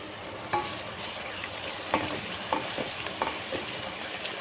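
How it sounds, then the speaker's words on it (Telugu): Ginger garlic paste fries in a pan for a prawn-head and egg curry, giving a quiet, even sizzle. Occasional light stirring taps and scrapes are spaced across the clip. "ఇప్పుడు మనం అల్లం వెల్లుల్లి పేస్ట్ వేసుకుందాం"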